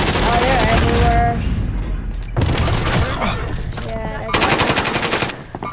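Rapid automatic gunfire crackles in bursts during a Warzone video game match, loud and close, with pauses between volleys and voices talking over the shooting.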